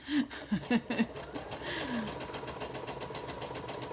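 Sewing machine stitching fabric onto a journal page, a steady rapid rhythmic whir of needle strokes running close and moderately loud after a few brief thumps at the start.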